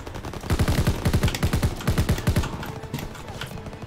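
Gunfire in Call of Duty: WW2 comes as rapid automatic bursts, several quick strings of shots separated by short gaps, loud and punchy, then fading toward the end.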